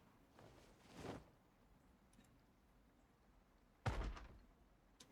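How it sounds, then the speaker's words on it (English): Zombies banging on a door in the Project Zomboid video game: two separate heavy thuds against the door, the second sharper and louder, each trailing into a brief rattle over a faint, quiet background. "Man, they are really banging on that door."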